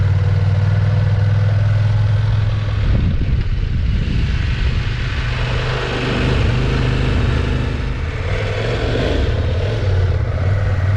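A CFMoto IBEX 800 T motorcycle engine rumbles loud and close while the bike rides slowly around a parking lot, a steady low drone that swells and eases a little as the throttle shifts, with no talking.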